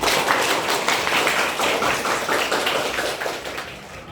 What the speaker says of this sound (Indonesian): Tepuk tangan buat Ananda Satria